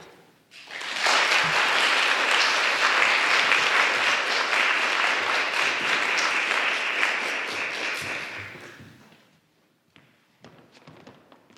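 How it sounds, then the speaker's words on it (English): An audience claps to welcome two speakers at a community gathering. The applause swells quickly into dense, sustained clapping for about eight seconds, then fades away and leaves a few sparse, faint claps. "Aren't you supposed to keep clapping until the guy gets up here?"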